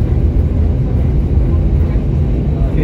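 Steady low cabin roar of an airliner landing at Budapest airport, a dense rumbling drone without distinct events, fairly loud throughout.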